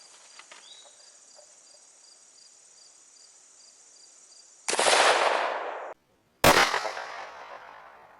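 A Stoeger M3000 12-gauge shotgun fires at a range of 12.5 yards, giving one loud, close blast with a booming tail, then a brief dropout followed by another sharp burst, after a steady high insect-like whine.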